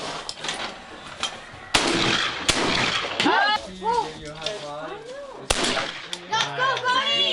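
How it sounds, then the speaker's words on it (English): Sharp shotgun blasts crack out at a kids' outdoor sports camp clay target game, two or three loud reports spaced apart, with children's voices and chatter around them. "the other camper has an opportunity to shoot their clay target and get them out"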